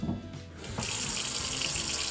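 A kitchen tap runs cool water over homemade butter during rinsing, a steady close splashing rush that grows fuller after a brief quieter start.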